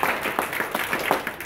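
A church congregation claps during a Sunday morning service, with brisk, rhythmic, fairly close claps repeating evenly throughout and no voices over them.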